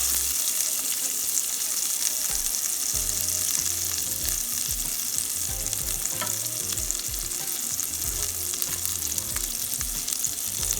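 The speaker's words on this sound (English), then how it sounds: "meanwhile that's sauteing" Bacon cheeseburger ingredients sauté on a grill, producing a constant crackling sizzle with bursts of scraping and stirring throughout, close and steady, with no speech.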